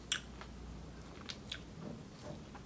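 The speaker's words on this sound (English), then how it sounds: "Just chewing the toffee pieces." Close, faint chewing of toffee pieces in Ben and Jerry's Banana Foster's Core ice cream, a few soft crunchy bites and squishy chews spread over a couple of seconds with no talking.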